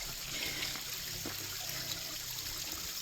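Waterfall rushing steadily nearby, a constant broadband wash of flowing water with no breaks, recorded close and fairly loud.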